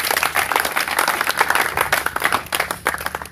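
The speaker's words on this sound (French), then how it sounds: "Applaudissons pour le Seigneur." Dense applause from a church congregation fills the whole stretch, a steady loud wash of many hands clapping with no pauses.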